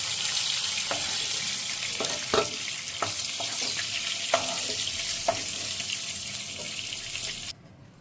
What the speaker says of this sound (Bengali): দেখুন আমার মাছ ভাজা লাল লাল করে ভাজা হয়ে গেছে।